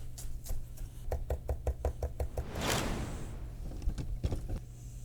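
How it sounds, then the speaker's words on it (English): Knife chopping fresh parsley on a cutting board, a quick run of even, close taps that slows and then gives way to a brief rustling sweep and a few scattered knocks, with no talking. "So a little bit of chopped parsley"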